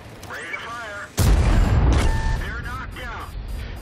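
A single sharp, heavy tank gun shot from World of Tanks cracks out close and loud, followed by a long booming decay, with softer game effects and whistling tones before and after.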